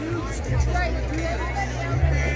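Crowd babble at a gun-rights rally in Parkland, a steady dense hubbub of many overlapping voices, with a nearer voice rising above the murmur now and then.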